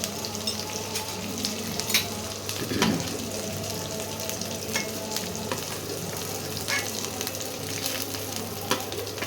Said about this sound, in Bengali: ভাজা ভাজা দেখো এরকম ভাজতে হবে, এর থেকে বেশি ভাজা যাবে না